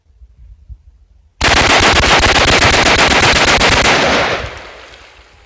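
Rapid semi-automatic rifle fire in a fast bump-fire string, about twenty rounds aimed at a pond outdoors, loud and close, in one continuous burst of about three seconds that ends abruptly and leaves a fading echo.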